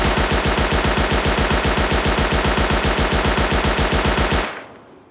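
Sustained automatic fire from an MP5 submachine gun in the video game S&box, a loud, rapid, evenly spaced burst of shots lasting over four seconds before cutting off into a short fading tail.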